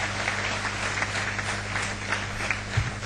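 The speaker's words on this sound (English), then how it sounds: "We'll give a big clap to the BSI team." Audience applause at a corporate HR summit and industry meet, a steady, dense wash of clapping filling the room throughout with a low hum beneath, no voices.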